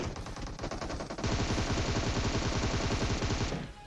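Gunfire in the mobile battle-royale game PUBG Mobile: loud, sustained rapid-fire bursts of automatic weapon shots rattling in a fast, even rhythm for several seconds, with no talking.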